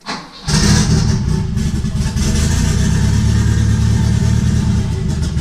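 A car engine with a melted piston ring and heavy blow-by fires up and runs loud and steady, a dense rough rumble with a harsh, uneven idle.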